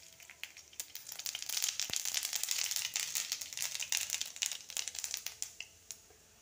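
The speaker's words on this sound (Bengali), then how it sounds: "তার জন্য দিয়ে দিচ্ছি তেলের মধ্যে কটা সর্ষে" Mustard seeds sputter and crackle in hot oil for a dal tempering, a dense run of sharp pops and crackles that swells to a steady sizzle and then thins out toward the end.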